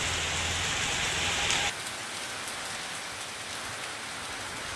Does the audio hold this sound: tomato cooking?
no